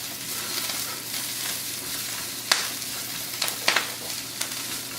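Red peppers frying with kale in a pan, a soft steady sizzle with a few sharp clacks and scrapes of stirring near the end.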